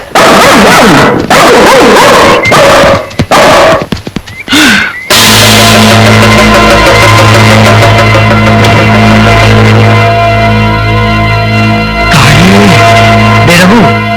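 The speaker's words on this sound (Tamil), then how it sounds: "நாய் குலைக்குது, அங்க போய் பார்ப்போம் வாங்க" Repeated loud dog barks and yelps in a Tamil film scene, close and harsh in quick bursts, giving way to sustained dramatic musical tones with a few more whimpering cries on top.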